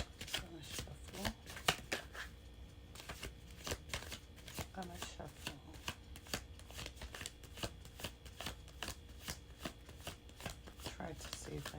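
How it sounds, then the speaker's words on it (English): Tarot cards being shuffled by hand, a steady stream of close, crisp riffling flutters and soft slaps repeating for several seconds, quiet and without talk. "Gonna shuffle."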